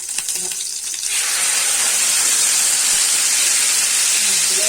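Food frying in hot ghee in a pan: after a brief quieter moment, a loud, dense, steady sizzle and hiss bursts up and continues unbroken, close by.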